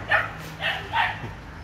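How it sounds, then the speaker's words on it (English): Dogs bark in three short bursts, close and fairly loud, spaced about half a second apart over a quiet background. "I hope those dogs not chase us"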